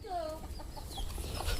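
A hen clucks quietly close by on a Bangladeshi poultry farm, a few short soft clucks over a steady low rumble of background noise.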